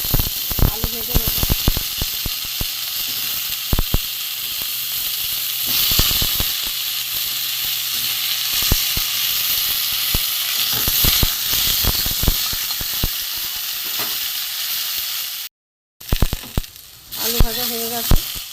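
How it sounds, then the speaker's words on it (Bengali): Potatoes sizzle steadily as they fry in oil in a home kitchen pan, a continuous close hiss with scattered pops and occasional stirring clatter, broken by one brief gap. "আলু ভেজে নেব"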